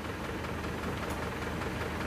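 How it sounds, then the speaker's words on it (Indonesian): An Isuzu Panther diesel engine with a worn, blowing liner runs at idle, a steady low mechanical rumble with faint knocking, heard close and alone with no talk. "beginilah kondisi mesin Panther ini ketika baru saja datang"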